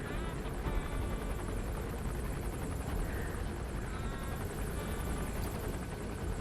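Helicopter gunship in the video game Metal Gear Solid V: The Phantom Pain, a steady loud rotor and engine drone filling the scene throughout, continuous and unbroken with no talk over it.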